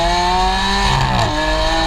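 A Lamborghini Aventador Ultimae's engine holds a loud, steady high-pitched running note, with a brief shift in pitch partway through, with no one talking.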